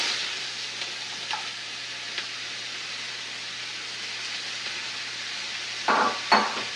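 Carrots, celery and onion go into a pan heated at medium-high, giving a soft steady hiss with a few light taps, then louder sizzling bursts and a clatter near the end.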